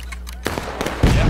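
A musket volley in the War of Brothers game, a quick cluster of sharp cracks followed by a louder booming burst, close and brief.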